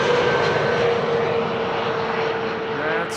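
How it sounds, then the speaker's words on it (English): An Airbus A321neo airliner arrives at Amsterdam Schiphol Airport, its engine roar loud and steady throughout, with a faint high whine running underneath and no voices. "A321neo arriving from Rome up next."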